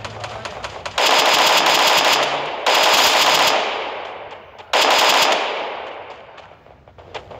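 Automatic gunfire from the battle-royale video game Free Fire comes in three loud, rapid bursts, each ringing out and fading before the next, with no talking over them.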